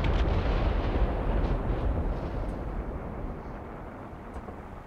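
A missile striking a tank in a tank-combat video game, M48A2 C on the field, erupting as one loud close blast whose heavy rumble slowly fades over several seconds, no voices.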